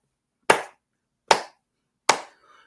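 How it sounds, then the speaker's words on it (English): Three loud, sharp single hand claps, close and spaced evenly about a second apart, each ringing briefly into silence. "this game right here deserves a worthy clap"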